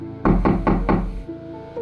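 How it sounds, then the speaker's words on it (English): Four heavy, evenly spaced knocks strike a door, loud and near, followed by a brief quiet tail. "only to wake up to the knocking again"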